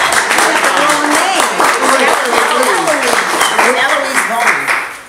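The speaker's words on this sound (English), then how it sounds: "Give me a hand clap for Miss Gillison." A party audience claps at a Christmas gathering, dense continuous clapping mixed with loud overlapping voices and chatter throughout, close and energetic, tapering at the end.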